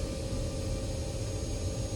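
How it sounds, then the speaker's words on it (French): An electric hydraulic pump runs inside an aircraft cockpit, giving a steady, loud whine and rushing hum with no change in level and no voices. "c'est le son de la pompe électrique hydraulique"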